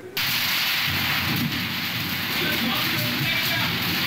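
Heavy rain pours down in a steady, dense roar with gusty wind during a Kalbaishakhi thunderstorm in Bangladesh, a constant loud wash of storm noise throughout.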